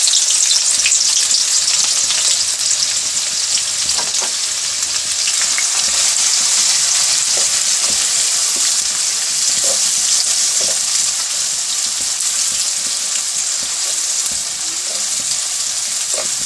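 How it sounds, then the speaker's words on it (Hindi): Onions fry in a cup of hot oil for a spicy keema methi dish, a loud, continuous bright sizzle with occasional pops and stirring clicks, close by and steady throughout. "प्याज को फ्राई करते हैं"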